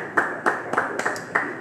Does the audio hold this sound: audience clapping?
yes